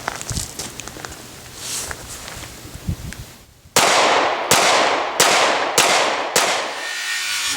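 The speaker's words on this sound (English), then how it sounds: "How many rounds you want to be fired? Just go 5." Five pistol shots fired during a tactical draw drill on a range, sharp loud cracks spaced about half a second to a second apart, following a stretch of quiet outdoor ambience.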